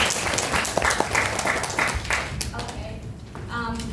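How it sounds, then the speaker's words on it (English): Audience applause at a Toastmasters club meeting in Vietnam, a full burst of clapping from a room of people, continuous and fairly close, tapering toward the end. "So may I give him a big applause?"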